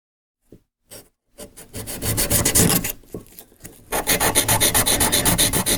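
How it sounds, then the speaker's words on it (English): Steel wax carving tools are rubbed back and forth across a whetstone, a few scattered scrapes giving way to steady, rapid rasping strokes, close and loud with a short pause midway. "use your whetstone to sharpen these tools up"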